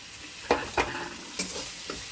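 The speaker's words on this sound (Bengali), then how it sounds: "এবার এই যে সোয়াবিনটাকে গুঁড়ো করে রেখেছিলাম ওটা দিয়ে দিচ্ছি।" Ground soybean is stirred into a pan of frying vegetables with turmeric and tomato. A quiet steady sizzle runs underneath, and a few distinct spatula scrapes and knocks break through it.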